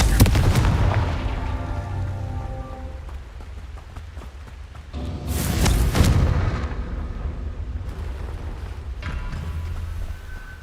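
Confringo blasting spell explosions in Hogwarts Legacy: loud booming blasts, one near the start and another heavier burst midway, with a smaller hit later, over rumbling game ambience.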